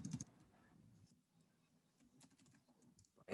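A computer keyboard clatters with light, quick keystrokes in short bursts, close and fairly quiet, as a command is entered with brief pauses between runs of typing.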